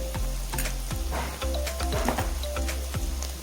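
Chopped onions with a pinch of salt sizzle and fry in butter in a pan, a steady crackling hiss with occasional stirring scrapes and soft knocks, close up and with no talking.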